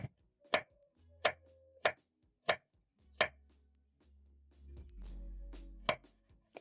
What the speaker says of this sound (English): So using a sharp knife, I'm going to slice.